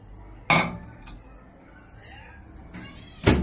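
A few sharp glassy clinks and knocks as a glass bowl of milk is placed into a microwave, ending with a louder clunk of the microwave door shutting.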